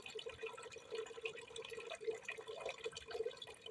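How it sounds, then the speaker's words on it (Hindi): A thin trickle of water runs from a weak household tap, a faint, steady splashing with small drips running continuously under quiet room noise. "पहले इस नल का कुछ लाख कोशिश के बाद जो है ना सिर्फ इतना सा पानी आ रहा है"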